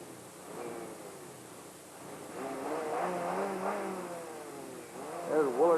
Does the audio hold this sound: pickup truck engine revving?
yes